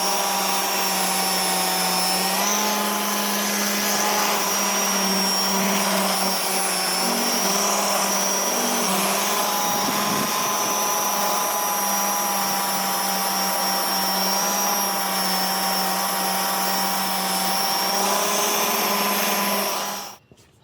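A Festool RO 150 FEQ-Plus 150 mm random orbital sander runs in finishing mode with a steady, loud motor whine and a broad whirring hiss, holding constant for about twenty seconds before cutting off at the end.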